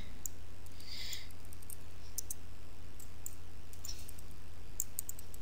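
Light computer keyboard typing for a code comment, a few scattered quiet key clicks over a steady background hum.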